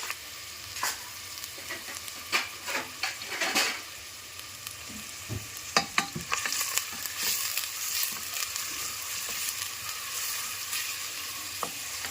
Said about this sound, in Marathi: नंतर हा कांदा, बारीक कापलेला कांदा, चिरलेला कांदा आपण टाकू